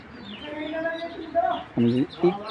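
Young racing pigeons, checker and silver racers, give short bird calls near the microphone, with a couple of louder low coos near the end.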